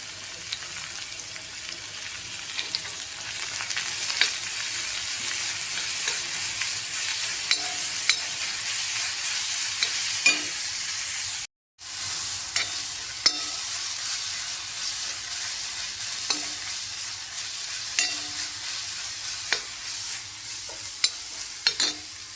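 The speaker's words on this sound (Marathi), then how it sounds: "आता आपण हा कांदा चिरलेला कांदा घालूया कांदा पण आता व्यवस्थित परतून घेऊया" Chopped onion sautéing in a pan for a Maharashtrian brinjal bharit, with continuous sizzling hiss and repeated scraping stirs of a spatula, steady and close, briefly cut by a gap midway.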